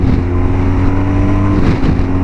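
A 1250 cc twin-cylinder motorcycle accelerating hard in fourth gear, a loud, steady engine drone held close and continuous throughout with no talk.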